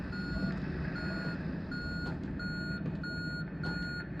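Intermittent electronic beeping from the video game Conarium, a steady high tone repeating in short even pulses over a constant low droning background.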